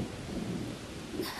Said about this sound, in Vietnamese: Mưa to thế này sẽ tạt hết vào chuồng ngựa mất thôi.